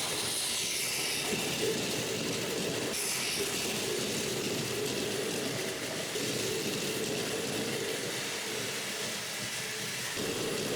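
A Plarail toy train rumbles along a double-track layout in a steady, continuous run with a hissing, whirring tone and faint clicking.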